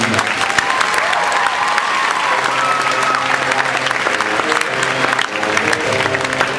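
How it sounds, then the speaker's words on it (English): A school pep assembly crowd gives a big, sustained round of applause for the varsity girls' team, repeat champions, with steady dense clapping and faint crowd noise filling the hall. "they deserve a huge round of applause"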